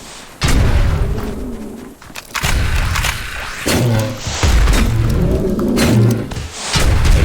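A missile launcher in the video game Dysmantle fires repeatedly, each launch a loud, heavy boom followed by a decaying rumble, spaced roughly a second or two apart.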